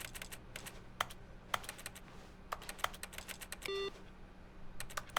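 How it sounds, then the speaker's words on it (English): Keyboard typing from the video game The Stanley Parable: quiet clusters of sharp key clicks in irregular bursts over a low steady hum, with a short electronic beep tone near the end. "You just make keyboard sounds no matter where you are"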